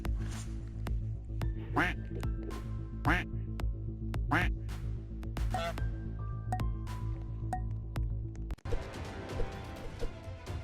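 Geese in a Roblox video game quack repeatedly in sharp, close bursts at an uneven rhythm, then a burst of busier game noise takes over near the end.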